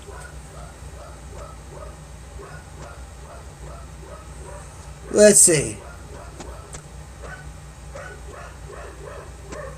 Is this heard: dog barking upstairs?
yes